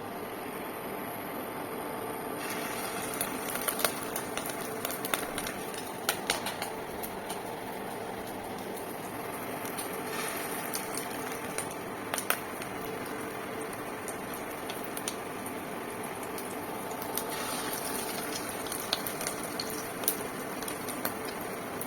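Fish roe fritters deep-frying in hot oil, a dense continuous bubbling hiss with scattered sharp pops and spits, close and steady, no talking.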